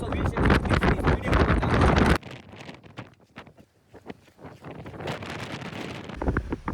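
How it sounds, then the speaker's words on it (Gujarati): Strong wind buffets the microphone on the Girnar mountain peak, loud roaring gusts at first, then a calmer stretch before the rushing returns, with a voice talking through it. "મિત્રો અહીંયા ફૂલ પવન છે."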